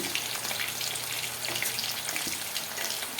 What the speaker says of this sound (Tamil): பெரட்டி வச்சுருந்த இந்த சிக்கனை ஒவ்வொன்றா கொஞ்சமாக போட்டு பொரிச்சு எடுத்துக்கலாம்